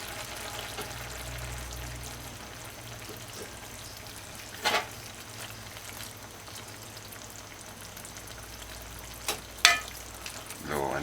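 Okra and saltfish (codfish) cook in a pot on a stovetop turned to low, giving a quiet, steady sizzle with a couple of brief clinks near the middle and end.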